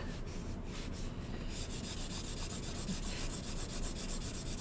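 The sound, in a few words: pen lightly rubbed across paper, coloring in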